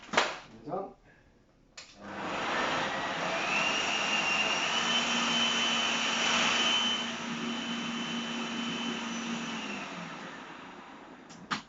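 A food processor blends a vegan sausage roll mixture of chia seeds, tamari, tomato puree, onions and garlic: a loud, steady motor whir starts after a brief pause and runs for about nine seconds before cutting off.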